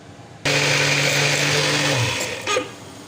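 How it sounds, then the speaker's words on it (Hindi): An electric blender whirs loudly as it purées green chili sauce, kicking on abruptly, holding a steady high whine for about two seconds, then winding down with a brief rattle at the end. "इसको अच्छी तरह ब्लेंडर में ब्लेंड कर लेंगे।"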